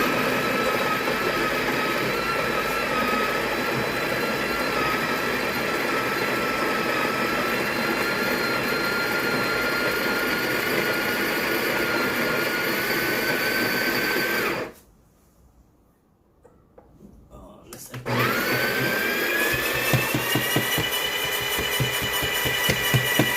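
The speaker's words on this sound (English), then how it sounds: "I'll try to use the bean grinder on the Breville, right, to grind it." Built-in grinder of a Breville Barista Pro espresso machine grinding coffee beans, a steady loud whirring motor drone that cuts off abruptly for a few seconds of near silence, then resumes.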